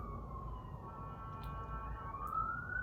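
An emergency siren wails faintly in the distance, its tone slowly rising over a low rumble of background noise.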